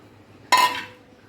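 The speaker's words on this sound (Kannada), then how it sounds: "ಹಾಲು ಹಾಕ್ಕೊಂಡು ಕಾರ್ನ್ಫ್ಲವರನ್ನು ಮಿಕ್ಸ್ ಮಾಡ್ತಾಯಿದ್ದೀನಿ ನಾನು" A spoon stirring cornflour mixed with milk in a cooking pan strikes the metal once with a sharp, bright clink that rings briefly before fading into quiet.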